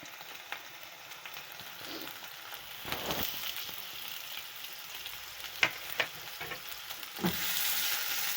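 Carrots, potatoes and tomatoes fry in a pan with a steady, even sizzle, broken by occasional stirring scrapes and a few sharper clicks of the spoon.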